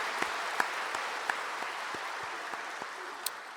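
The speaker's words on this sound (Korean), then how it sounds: "하나님께 영광의 박수 한번" A church congregation claps together during a Sunday worship service, a steady, fairly soft patter of many hands with a few sharper individual claps standing out.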